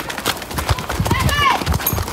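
Horse hooves clip-clop during a horseback ride at a birthday cavalcade, steady close hoofbeats running beneath children and adults talking and calling out over them.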